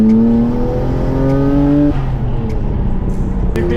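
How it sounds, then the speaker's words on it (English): Turbocharged Lexus V8 revving hard nearby, rising engine tones sweeping upward in two pulls with a sharp drop between, loud and continuous with faint road noise, no talk. "V8 turbo, you can hear that shit a lot."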